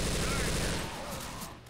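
Rapid machine gun fire in the zombie shooter Left 4 Dead 2, a dense continuous burst that fades slightly toward the end, with other game noise mixed in.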